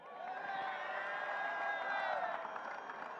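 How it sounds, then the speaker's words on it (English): Crowd applause and cheering for the winner of a cricket match, a steady wash of clapping with scattered whoops, held at an even level throughout and heard from a little distance. "Please, a big round of applause for the winner"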